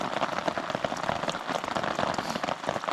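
Rain drumming on a tent and tarp while camping in a rainstorm, close and dense with rapid irregular patters filling the whole stretch.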